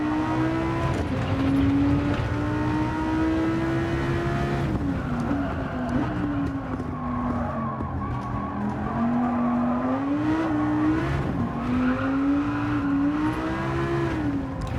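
A race car engine in Gran Turismo holds a loud, steady, close-up drone, its pitch climbing and dipping through gear changes as it accelerates flat out, with brief tyre squeal.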